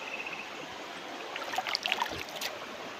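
Faint flowing stream, a soft steady wash of water with a few small splashes and trickles near the middle.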